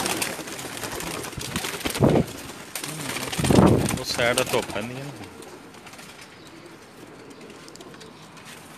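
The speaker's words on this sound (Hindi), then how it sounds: "ये जनाब लाखे कबूतर हैं हमारे" Lakha pigeons cooing in a Pakistani loft, low throaty coos rising a few times mid-clip, close and fairly loud, mixed with someone talking over them.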